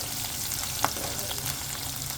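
Garlic, green chillies and onion fry in hot oil for a fish curry, a steady dense sizzle with a brief stirring clink partway through.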